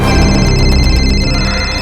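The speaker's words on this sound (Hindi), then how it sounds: "सर फोन की घंटी बज रही सर" A phone rings in a tense crime-drama scene, a loud electronic tone with a rapid pulsing trill that repeats steadily across the brief moment.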